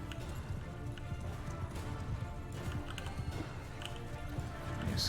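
A horse galloping in a medieval battle video game with clans, factions and armies: a steady, rapid clatter of hooves, moderately loud and mixed with busy background battle noise.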